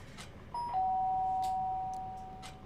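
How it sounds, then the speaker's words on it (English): Doorbell ringing in the video game Danganronpa: Trigger Happy Havoc, a single clear sustained electronic chime that enters after a brief quiet moment and rings steadily over a faint background hum before slowly fading. "Sharp noise of the doorbells pierced my sleepy haze and pulled me back into the reality world."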